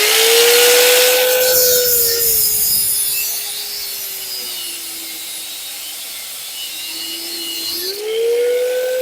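Factory rotor retaining clips are being cut off a Honda Accord, producing a loud, continuous tool whine close by that sags in pitch under load and climbs again near the end, with no talking.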